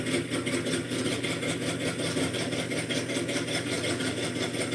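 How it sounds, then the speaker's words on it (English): A car engine idles steadily and evenly, a continuous close rumble with no talk over it. "Now listen to this engine, Dad."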